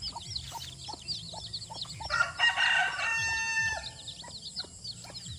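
A rooster crows repeatedly with loud, clear cock-a-doodle-doos alongside scattered clucking from other chickens, near a backyard vegetable plot of bitter gourd and young coconut trees, with no talking.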